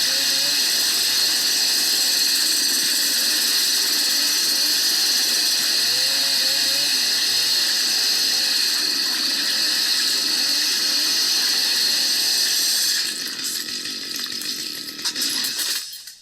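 A Warhammer 40k Sisters of Battle cosplay chainsword prop plays a continuous buzzing, whirring electronic cutting sound effect that drones steadily at close range, then sputters and winds down near the end.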